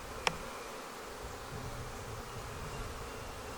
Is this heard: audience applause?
no